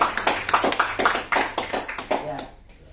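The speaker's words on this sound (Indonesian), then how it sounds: "Tepuk tangan yang meriah." Live audience at a network-marketing business class in Tangerang claps to welcome the next speaker: a fairly sparse, rhythmic run of sharp hand claps over about two and a half seconds, tapering off into quiet at the end.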